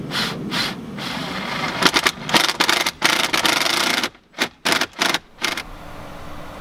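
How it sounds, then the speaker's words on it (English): An impact driver drills a hole through a car dashboard in loud, gritty bursts that start and stop several times, with short silent gaps between the final runs. "Looks like I gotta go get my impact driver."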